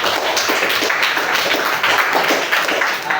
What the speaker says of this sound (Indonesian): jadi berikan dulu tepuk tangan kepada